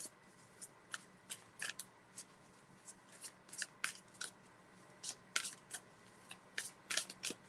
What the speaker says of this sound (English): Got to make sure I shuffle really well.